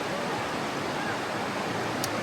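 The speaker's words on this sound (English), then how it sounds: "Okay, we're past the waterfall." A waterfall in the Narrows slot canyon in Zion gives off a steady broadband rush of falling water that fills the short clip at an even level.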